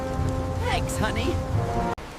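Steady rain of a storm hisses and patters with a low rumble beneath, loud and continuous, with voices over it and a sudden brief drop near the end.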